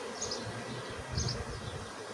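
Honey bees hum low and steady over open hive frames full of bees and capped brood, a soft continuous buzz heard close without speech.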